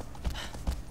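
Horse hooves in Shadow of the Colossus, two heavy, close clip-clop thuds of a trotting or galloping steed against a soft outdoor wind bed.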